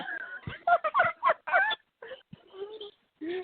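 Pet birds at home give a run of squeaky, gobbling calls in quick bursts, then scattered quieter chirps after a short pause, fairly close and with no talk over them.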